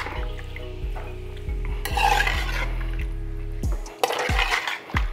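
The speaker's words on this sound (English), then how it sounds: "oil simmering, in go the prawns. Prawns in sesame oil only." Black tiger prawns fry in sesame oil under a hissing sizzle, with metal scrapes and clinks of stirring in the pan over a steady low hum, and no one speaking.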